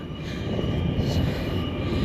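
A 10-car suburban train pulls into a platform at Newcastle Station, rumbling close by with a steady low roar and rattling wheels, a faint metallic squeal riding above the noise as it slows.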